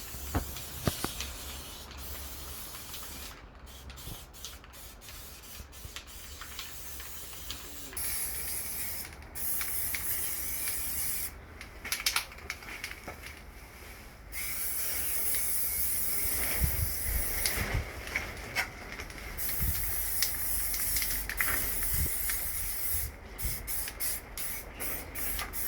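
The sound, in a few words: spray primer being sprayed from a shaken can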